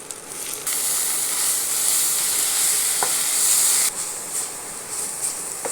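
Moringa leaves hit a hot pan of onions and turmeric for a Telugu-style fry, setting off a steady, close sizzle with soft hiss and intermittent stirring scrapes.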